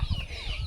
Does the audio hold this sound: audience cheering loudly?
no